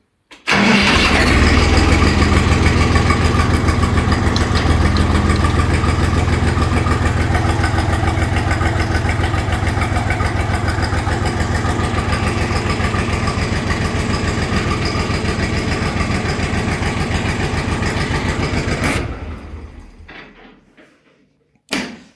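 Kentavr 244SX walk-behind tractor engine runs loud and steady right up close, a continuous throbbing chug for most of the clip before it winds down and cuts off near the end.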